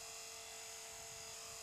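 A radio-controlled model helicopter hovers during beginner flight practice, giving off a faint, steady electric whine with an even hum beneath it that holds unchanged throughout.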